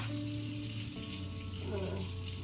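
Water runs steadily from a kitchen tap while two bowls and a knife are rinsed, a continuous close splashing rush with faint clinks.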